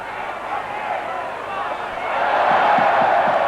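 Crowd applauding and murmuring at a rugby match, a broad steady wash of stadium noise that swells louder in the second half, with a commentator's voice talking over it.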